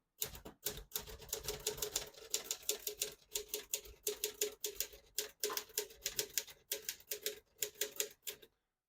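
A 1973 Olivetti Studio 45 manual portable typewriter clacks away in a steady burst of keystrokes, brief pauses between words, close and crisp with no talking.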